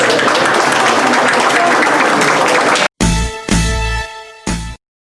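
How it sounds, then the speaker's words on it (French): Applause fills a room at a book launch, with a dense, loud crowd clapping for about three seconds before it cuts off into a few brief, sharp bursts and silence. "Alors je passe la parole à Pascal, à des applaudissements pour Pascal."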